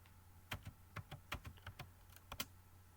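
A computer keyboard on an Ubuntu machine clicks as a short command is typed, roughly a dozen close, crisp keystrokes in an uneven rhythm over a low steady hum, with no talking.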